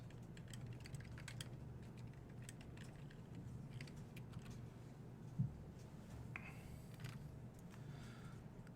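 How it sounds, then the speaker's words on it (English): Light typing on a computer keyboard, with soft scattered key taps at close range over a low steady room hum and one brief knock. "I'm typing demand for Yoho over the last 52 weeks"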